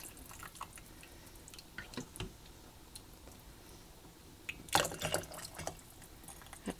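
Homemade turkey gravy is ladled into canning jars, giving scattered soft drips, clinks and liquid splashes with a louder cluster of clatter near the end, quiet and close, without talking.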